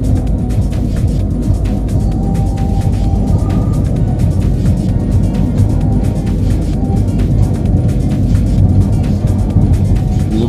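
A large PO Haryanto intercity bus speeds along the Semarang–Jakarta toll road, heard as a loud, constant roar of engine and tyre rumble that never lets up.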